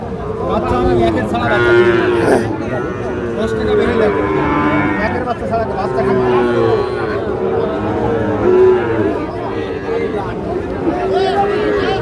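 Sahiwal bull calves moo repeatedly at a busy livestock market in Ambari, with loud, drawn-out calls rising over the background chatter of the crowd.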